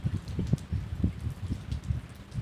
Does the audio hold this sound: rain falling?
yes